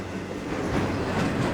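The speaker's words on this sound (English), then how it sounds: "We're crossing the train tracks, which is super rad because we actually had a train go by." A train rolls past on the tracks beside an off-road trail along the Mojave Road, a steady loud rumble with faint clattering wheels close by and no voices.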